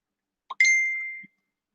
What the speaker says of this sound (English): My phone is like blowing up.